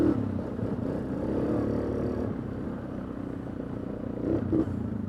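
Engine of a Suzuki KingQuad 750 ATV fitted with heavier-than-stock tires, a steady loud low rumble that swells briefly near the end, with no talking.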